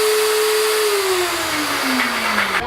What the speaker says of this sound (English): We're going to grind and blend the same.